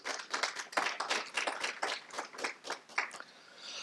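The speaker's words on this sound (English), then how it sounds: "Let's give them a round of applause." A conference audience at a plenary session claps for student presenters: a close, lively burst of individual hand claps, fairly loud and uneven, thinning out toward the end.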